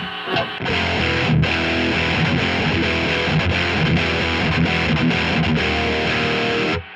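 A distorted electric guitar through a Railhammer Hyper Vintage pickup in single-coil mode plays a dense, sustained riff with a saturated, buzzing tone, loud and continuous for several seconds, with no talk over it.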